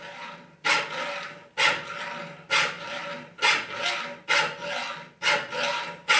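A hand file chamfers a sharp corner with steady rasping forward strokes, about seven rhythmic passes in a row, close and loud with a brief gap between each stroke.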